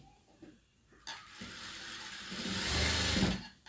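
A sewing machine stitches along the edge of a boat-neck blouse's cross belt, running quietly at first and then in a steadier, louder burst toward the end, with no talking.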